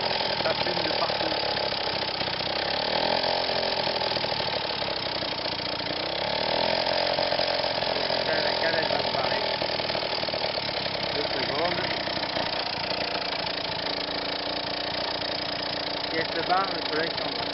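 The small engine of a Solex 5000 moped runs continuously with a rough, buzzing, knocking note, sitting close and fairly loud with steady rattling throughout.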